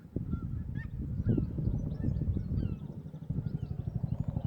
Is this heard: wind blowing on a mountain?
no